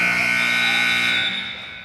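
At the end of a quarter in a middle school basketball game, a loud, sustained electronic buzzer blares for nearly two seconds and tapers slightly at the end.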